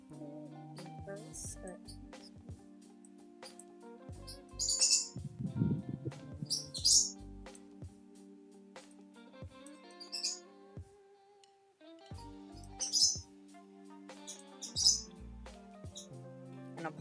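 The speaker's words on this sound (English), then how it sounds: "apologies, you're gonna hear that pet bird" A pet bird in a cozy home workspace lets out several short, high, bright chirps in scattered bursts, faint and fairly close, over soft background music.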